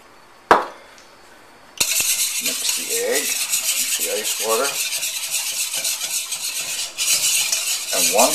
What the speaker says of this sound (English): To whisk until smooth. The batter is supposed to be lumpy, a bit on the lumpy side.